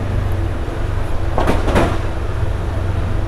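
A steady, heavy rumble of a long train rolling past nearby, continuous throughout, with a brief rush of louder noise midway.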